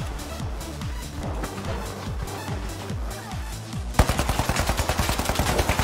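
An automated turret in the destructible-building shooter THE FINALS fires rapid, loud bursts of gunfire, first in choppy volleys and then a fast steady stream of shots close by.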